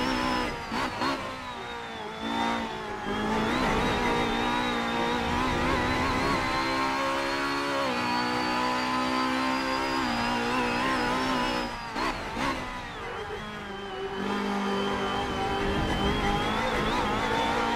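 A Honda Accord MK5 BTTC touring race car accelerates hard on a circuit, its engine revving loudly and continuously from inside the car, with brief dips at gear changes.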